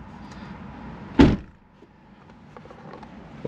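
A single solid thud of a 1994 Subaru Legacy Touring Wagon's door shutting, sharp and close, followed by a low idle hum in the background.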